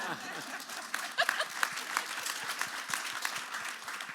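A conference audience at a Bay Area–Silicon Valley summit breaks into moderate applause, a continuous patter of many hands with some louder claps, a few chuckles and light murmuring mixed in.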